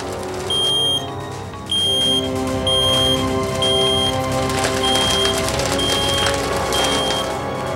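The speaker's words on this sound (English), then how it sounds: "when I heard the smoke alarm." A smoke alarm set off by a forgotten candle sounds in loud, shrill, evenly spaced beeps, about one per second, over a dense musical background.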